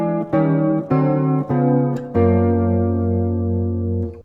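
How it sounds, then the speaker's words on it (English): Sustained distorted electric chords, each a dominant seventh, stepping down chromatically in four blocks, the first three short and separated by brief gaps and the last held long before fading. "What I just played is a string of dominant seventh chords descending chromatically."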